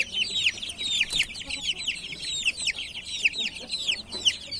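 Carijó chicks and chickens cluck and peep in a busy, continuous chorus close by, a dense stream of short high calls with no talking over them.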